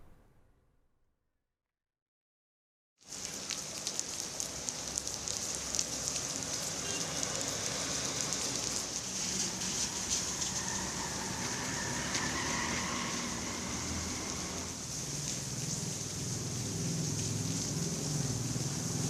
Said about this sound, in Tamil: அண்ணா நகர், ராயாபுரம் உள்ளிட்ட பகுதிகளில் மழை விட்டு விட்டு பெய்தது.